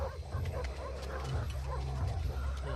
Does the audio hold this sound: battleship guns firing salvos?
no